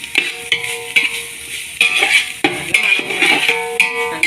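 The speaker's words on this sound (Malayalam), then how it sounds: "തേങ്ങേൻ്റെ ഉള്ളിൻ്റെ എല്ലാം ഒരു പച്ചമണം മാറുന്നവരെ നമുക്കൊന്നിങ്ങനെ ഇളക്കി കൊടുക്കണം" Grated coconut and shallots fry in oil while a metal spoon stirs and scrapes the pan in repeated strokes, close and clear, with a light sizzle underneath and no talking.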